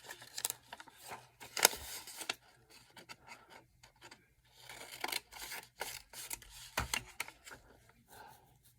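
Scissors snip through paper for a handmade zig-zag journal, a few quick crisp cuts with rustling and scratching between them, heard close and fairly quiet.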